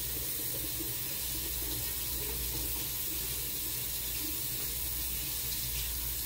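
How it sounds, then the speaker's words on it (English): Steady running tap water streaming into a sink while gloves are rinsed under it, a continuous close splashing hiss with no pauses. "I'm gonna wash my gloves because I'm gonna reuse these eventually."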